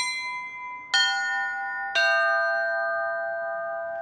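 Three tower bells of Holy Trinity Cathedral in San Francisco struck one after another, forming a minor triad; each bright clang rings out and sustains, overlapping into a long shimmering decay.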